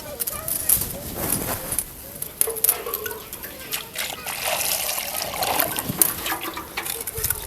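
Water sloshes and splashes as gooseberries are rinsed by hand, with intermittent trickles and dribbles; a voice talks now and then over the washing.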